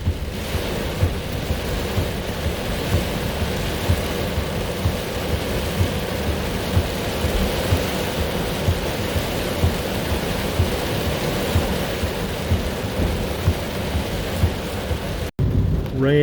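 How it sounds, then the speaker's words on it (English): Heavy rain pours steadily in a windy supercell thunderstorm, a dense, unbroken hiss and roar with low rumbling beneath, cutting out abruptly near the end. "Rain is starting to let up a little bit."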